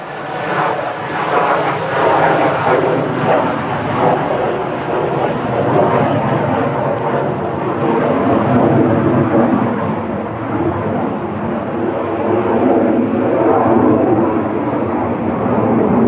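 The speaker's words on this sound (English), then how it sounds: "It's a Hawker Beechcraft 400 XP." A Hawker Beechcraft 400 XP business jet at Manchester Airport, its engines giving a loud, steady, broadband roar that holds for the whole stretch, with a faint voice under it.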